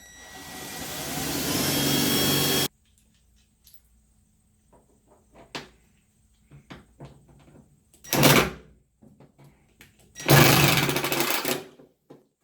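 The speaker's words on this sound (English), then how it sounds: "So you're going to drill yourself a pilot hole," A power drill whirs steadily for a couple of seconds, drilling a pilot hole for a rear fender flare, then stops; later come scattered clicks and two more short bursts of the drill.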